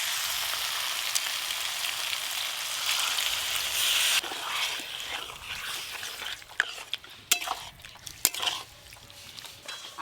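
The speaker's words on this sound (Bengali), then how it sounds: "এবার পরিমাণ মতো জল দেব" Water poured into a pan of frying dry potato curry, a loud broad sizzle and hiss that suddenly drops to a softer bubbling with a few sharp clicks and clatters of utensils.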